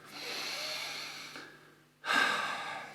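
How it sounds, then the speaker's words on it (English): Two long, audible breaths up close, a slow breathy inhale-exhale followed by a short pause and then a second, louder breath with no speech. "Take a breath."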